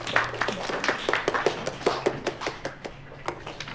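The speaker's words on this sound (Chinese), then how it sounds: "来了个新同事，鼓鼓掌，" Office colleagues clap to welcome a new coworker, a small group's brisk, uneven handclaps close by that thin out and fade toward the end, with no talking.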